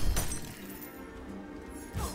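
Crystalline shattering burst from an ice-like shatter ability in the action game Ravenswatch, a sharp breaking crack at the start followed by a lingering glassy ring and a second smaller impact near the end.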